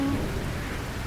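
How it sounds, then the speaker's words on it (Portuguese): Steady rain falling in the farming video game Fields of Mistria, a constant broadband hiss of drops with a low rumble beneath, even and unbroken throughout. "Hoje tá chovendo"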